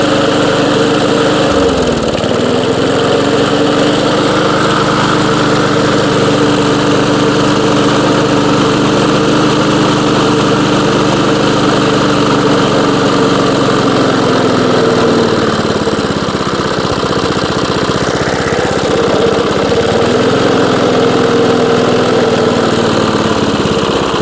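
Old 1982 JCPenney push mower, recently revived and smoking as it burns off oil, drones loudly and steadily up close at idle, with brief dips in engine speed near the start and end.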